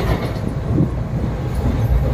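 A train running, heard as a loud, steady rolling rumble with a wide hiss and no clear breaks or voices.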